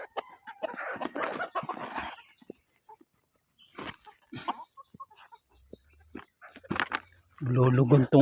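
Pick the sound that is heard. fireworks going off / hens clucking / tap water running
hens clucking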